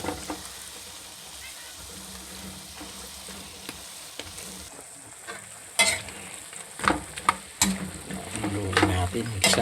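Chicken tinola is stirred in a pot, a ladle scraping and clinking against the metal over a soft background sizzle, with scattered louder clatters and the stirring growing busier toward the end.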